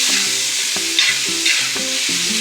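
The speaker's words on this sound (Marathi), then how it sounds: "बारीक चिरलेला टोमॅटो घालायचा, तो पण चांगला परतून घेऊ।" Finely chopped tomato sizzles and fries in a pan for egg bhurji, a steady bright crackle throughout with repeated stirring scrapes and taps of a spoon, close and alone with no voices.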